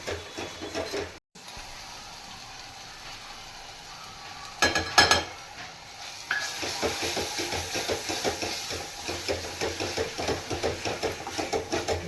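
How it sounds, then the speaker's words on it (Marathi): Spices stir-fried in oil in a pan beside cooking mutton, with soft sizzling, a clatter of utensils midway, then rhythmic spatula scraping and frying noise that grows steadier and louder. "हे तेल फुटेपर्यंत परतवून घ्यायचं बरं"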